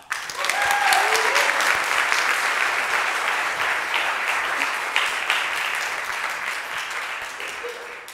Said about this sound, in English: Can I get everybody to give a huge round of applause as Aisha comes up on the stage